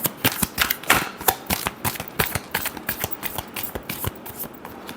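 Tarot cards shuffled by hand during a weekly horoscope reading, a quick run of crisp riffling snaps and flutters, close and steady, with no talk over it.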